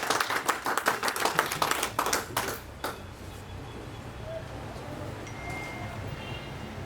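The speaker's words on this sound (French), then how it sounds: "Merci beaucoup d'applaudir" A live audience at a product launch event claps loudly for a few seconds with rhythmic, uneven bursts, then the applause dies away into quiet room tone.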